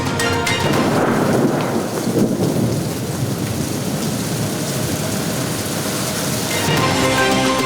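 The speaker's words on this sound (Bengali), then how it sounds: "রাজধানীতে মধ্যরাতে স্বস্তির বৃষ্টি" Steady heavy rain with rumbling thunder during a midnight storm over the capital city, a dense continuous wash of downpour with deep rolls swelling and fading throughout, no voices.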